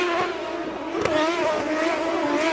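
Champ Cars roar in a loud, dense engine drone as the pack accelerates at the race start in Las Vegas in 2007, rising tones layered over one another throughout.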